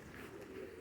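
Show pigeons in a loft in hot Florida weather give a soft, low cooing that rolls on for just under a second.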